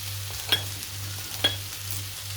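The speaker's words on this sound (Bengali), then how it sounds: "দিয়ে দিচ্ছি 1 টেবিল চামচ আদা এবং 1 টেবিল চামচ রসুন। একটু নেড়ে চেড়ে নিই মেল্ট হওয়ার জন্যে।" Ginger and garlic fry with browned onions in a pan, a low steady sizzle marked by two distinct spoon clinks as the mixture is stirred.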